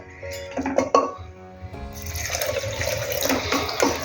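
Water is poured into a pan of elephant foot yam (suran) curry, a splashing pour that builds after a couple of clinks and runs steadily to the end, close and moderately loud.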